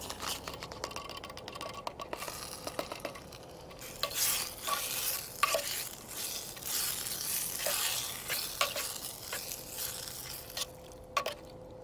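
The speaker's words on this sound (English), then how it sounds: "Now we're going to add our potatoes and Spam back in and mix everything up." Spam and potatoes are mixed back into sweet and sour sauce in a small canteen cup, a spoon scraping and clicking against the metal in irregular strokes over a faint sizzle, with no talking.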